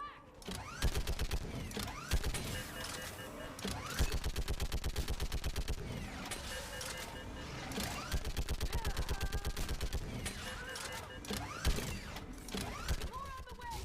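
Sustained automatic gunfire in the video game Mass Effect 3, with rapid rhythmic bursts that repeat through the scene. Mechanical clanks and in-game shouting are layered over the shooting.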